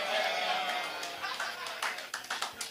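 Faint scattered clapping and light chatter rise from a church congregation, the sound thinning into a few separate claps as it fades.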